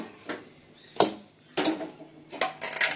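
Dishes and pots, including a pressure cooker used for boiling potatoes, are handled one after another for washing, giving several sharp clanks and knocks with quiet pauses between them.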